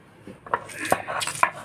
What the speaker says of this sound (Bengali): দুইটা রান্নার জন্য একসাথে বেটে নিচ্ছি